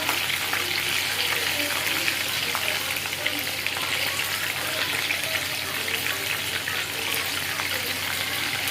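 Chicken lollipops fry in hot oil with a steady, dense crackle and hiss that holds evenly throughout, close and fairly loud, with no talking.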